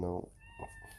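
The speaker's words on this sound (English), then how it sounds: "That's my cat." A pet cat lets out a short, close meow, with a brief second vocal sound following right after.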